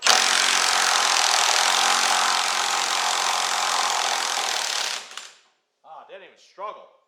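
A Milwaukee high torque impact wrench with socket and adapter runs in one loud, steady burst for about five seconds, then cuts off abruptly; a voice follows briefly in the quiet.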